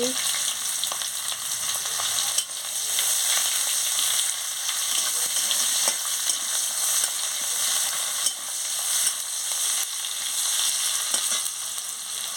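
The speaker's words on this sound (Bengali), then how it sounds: "ফোড়ন দিয়ে দিচ্ছি পেঁয়াজ কুচি দিয়ে দিচ্ছি" Tempering spices with dried red chili and chopped onion fry in a pan for a spinach and taro dish, a loud, continuous close sizzle with occasional soft stirring clicks.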